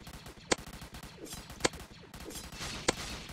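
Beam launcher gun in Roblox Zombie Attack firing three sharp, evenly spaced shots about a second apart, each a bright crack over a busy, rumbling game background with no voices.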